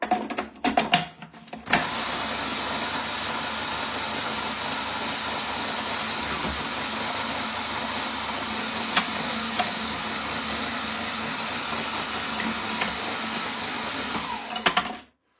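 A Magimix food processor chops wild garlic leaves with a loud, continuous motor whir and rattle. It starts after a few brief bursts, runs steadily for over twelve seconds, then cuts off.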